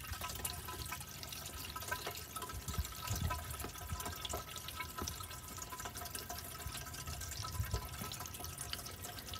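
Water drains through newly fitted bathroom plumbing in a Silversides bus conversion, a continuous trickling, gurgling flow heard close by with no talk.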